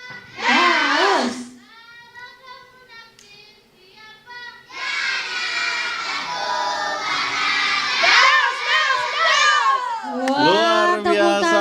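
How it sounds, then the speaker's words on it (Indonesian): A crowd of young supporters at a children's Islamic preaching contest shouts and cheers loudly, with a brief child's cry at the start, then a surging, sustained wall of excited voices, close and dense. "tepuk tangan pendukung Daus ya dari Batubara"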